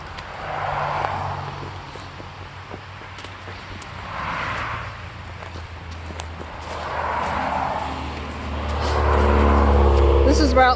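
Vehicles on Route 55 pass one after another at a steady roll, each swelling and fading as it goes by. A heavier, louder rush comes in near the end, and faint voices sit beneath the traffic.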